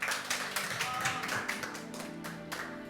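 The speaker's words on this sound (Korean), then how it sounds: "여러분 박수 한번 주십시오" An audience at an opening talk concert claps steadily, producing a brisk patter of many hands at moderate volume with no speech over it.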